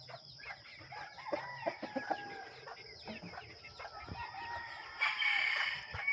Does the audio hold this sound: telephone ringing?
no